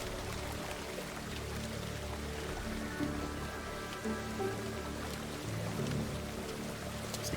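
Rain falling on a farm in the video game Farmer's Dynasty, a steady soft patter over a low humming background.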